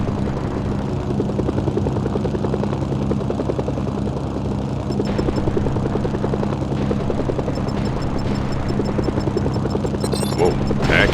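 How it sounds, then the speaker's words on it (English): Helicopters in the video game Mercenaries: Playground of Destruction thud with a steady, loud rotor chop and engine drone throughout, joined by faint beeps and a sharper burst near the end. "Incoming helicopters."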